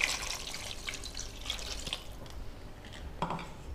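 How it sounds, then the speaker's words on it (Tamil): Two tumblers of water splash and trickle into a pot of eggplant and potato gravy up close, with scattered drips and small splashes over a quiet background. "அதுக்கு ஒரு 2 டம்ளர் தண்ணி சேர்த்துக்கலாம்"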